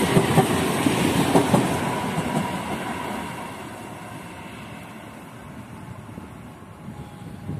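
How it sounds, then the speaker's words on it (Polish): A Regio passenger train on the Poznań Główny–Świnoujście route pulls into a station, its wheels clattering and rumbling loudly at first and then easing into a softer, fading roll as it slows. "Wjeżdża pociąg Regio relacji Poznań Główny Świnoujście."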